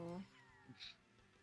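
A cat gives a short, faint squeaky chirp in place of a meow, close by and quiet, with a voice at the start.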